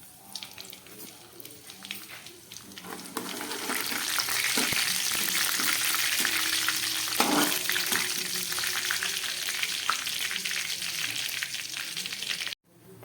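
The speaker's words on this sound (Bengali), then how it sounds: "দিয়ে দিচ্ছি কিছুটা গোটা জিরে, আর দিয়ে দিচ্ছি একটু গরম মশলা ফোড়ন।" Whole cumin, a bay leaf and garam masala spluttering in hot oil, a steady close sizzle that swells after a few seconds and stays even, with a few light clinks and no speech.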